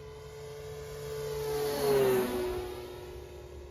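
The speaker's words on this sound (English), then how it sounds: "This is half throttle. This is pretty good for half throttle." A Beechcraft Bonanza G36 scale RC model airplane flying at half throttle gives a steady motor whine that swells as it passes close overhead, then fades as it moves away.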